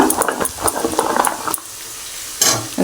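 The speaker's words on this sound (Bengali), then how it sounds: "এখন আলুটা দিয়ে একটু কষাবো তারপরে ভেন্ডিটা দেব" Potatoes sautéing in a pan for an okra curry, with a spoon stirring and scraping in quick bursts over a steady close sizzle, then a brief lull before another loud scrape.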